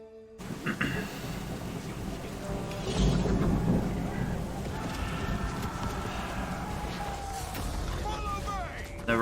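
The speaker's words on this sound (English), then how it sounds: "Never had so much thunder in such a short time span." Thunderstorm with rolling thunder that swells and rumbles for several seconds over steady rain, loud and close, with faint sounds of other activity mixed in.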